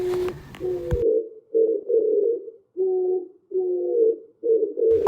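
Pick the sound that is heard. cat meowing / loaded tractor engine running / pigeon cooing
pigeon cooing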